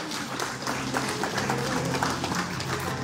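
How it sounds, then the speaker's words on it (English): Applause from an audience at a provincial government event in Bohol, honouring the vice governor: steady, dense clapping that fills the whole stretch at an even level, with a faint murmur of the crowd beneath. "So let's give a round of applause to Vice Governor Rene Relampagos."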